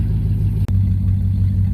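Truck engine heard through its exhaust on a snowy day, a loud, steady, close low rumble at a constant pitch with one brief sharp dropout partway through, no talk.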